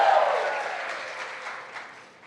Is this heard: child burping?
no